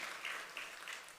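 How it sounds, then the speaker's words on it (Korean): A church congregation at a spring revival service applauds, with soft, distant clapping that swells in a few brief waves and stays faint throughout. "박수로 영광을 돌립니다."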